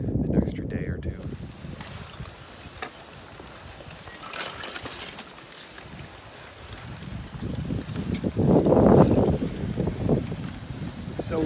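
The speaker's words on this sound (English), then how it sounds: "So windy right now, it's just pushing this ice up against the shore." Strong wind gusts across an icy shoreline on the Yellowknife River, pushing ice against the shore, a steady roaring rush that swells louder toward the end, with a person speaking over it.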